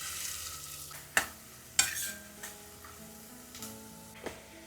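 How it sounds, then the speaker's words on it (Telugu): Thinly sliced onions frying in plenty of oil, giving a soft, steady sizzle with a few sharp clacks of a ladle against the pan, close but quiet, with no voices. "నూనెలో ఉల్లిపాయలు మంచిగా వేగాలన్నమాట."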